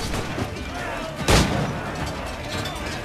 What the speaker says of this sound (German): Noch ein Schuss.